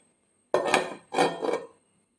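A lid goes onto a dish of fish marinated in ground green peppercorn paste: two short, close metallic clanks, with a brief scrape, in an otherwise quiet kitchen.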